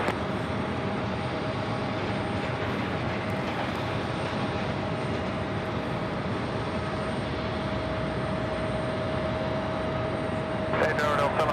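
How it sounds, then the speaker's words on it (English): A Delta Air Lines Airbus A220-100 jet on arrival at JFK gives off a steady, loud engine roar throughout, with a faint tonal whine running through it and a slight swell near the end. "This is Delta Airlines flight 1056 coming in from San Antonio, Texas in this Airbus A220-100."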